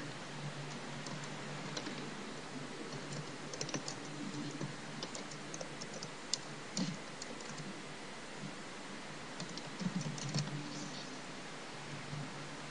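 Typing on a computer keyboard while building a PowerPoint presentation, a steady run of soft, close key clicks with occasional louder taps over a faint hiss, with no talking.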